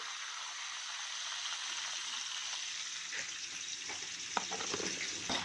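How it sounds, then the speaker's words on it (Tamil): Chana dal fries in hot oil for a lemon rice tempering with a pinch of asafoetida, giving a steady, close sizzle with a few light stirring clicks and no voices. "கொஞ்சம் நல்லா வறுத்து எடுத்துக்கலாம்"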